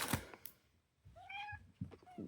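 A domestic cat meows once in a clear, rising-and-falling tone near the microphone, preceded by a few soft thumps and followed by a second short meow.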